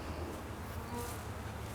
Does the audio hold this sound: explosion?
no